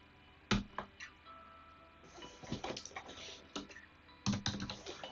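Bursts of computer keyboard typing, close and clear, with irregular clusters of keystrokes and short pauses between them, during work on Python code.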